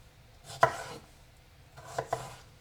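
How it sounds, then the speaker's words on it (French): A knife chops cucumber into strips on a cutting board: one sharp, close strike, then a quiet gap and two quick cuts near the end, with no talking. "Pour ça je coupe d'abord en deux. Ensuite je fais des lanières."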